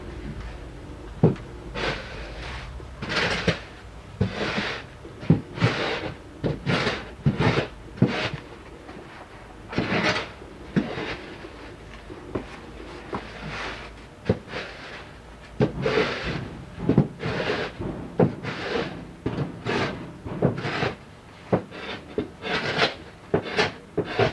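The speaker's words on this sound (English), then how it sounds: "notch it to 60 mil, like that, and drag it over the top of the edgings" A notched screed dragged over bedding sand across the tops of clay paving edgings, about two dozen close, gritty scraping strokes in an irregular rhythm with short pauses between them.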